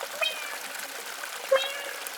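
Two short, high meows, the second louder, sounding like a voice mimicking a cat over a faint background hiss.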